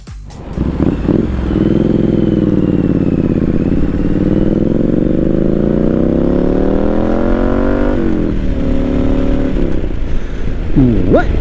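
A motorcycle on a ride roars loudly and close by, its engine revving up through rising pitch, easing briefly, then climbing again, with a sharp throttle blip at the end.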